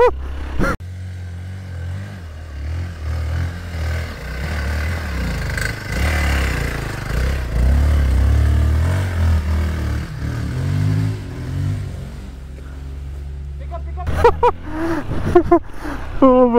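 A Hero Xpulse motorcycle claws up a loose sandy incline off-road, engine roaring and revving steadily under load for a long stretch, with clattering and a rider's excited voice breaking in near the end.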